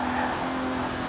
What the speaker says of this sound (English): like the current DBS, it's a V12, and it sounds glorious